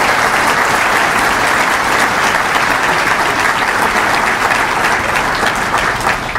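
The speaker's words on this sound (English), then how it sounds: "So let's have a round of applause for Jane Forbes Clark." Audience at a New York State Baseball Hall of Fame induction ceremony applauds steadily, a dense, loud wash of clapping hands holding at full strength from start to finish with no talk over it.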